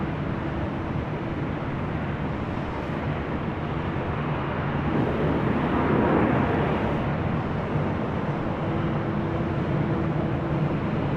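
Jet airliners at LAX airport, with a heavy jet departing from the south complex on runway 24 left, make a steady broadband roar throughout that swells louder for a couple of seconds midway, then settles back.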